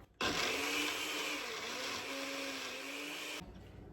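A blender crushes ice for lemonade icees, a loud steady whirring grind that starts abruptly and runs for about three seconds before stopping, with no talking.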